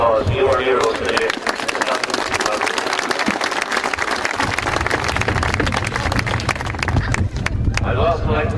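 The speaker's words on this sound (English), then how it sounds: "I think you deserve a round of applause" Crowd applause fills a football championship presentation, a dense steady wash of clapping and cheering that runs loud throughout, with voices mixed in beneath.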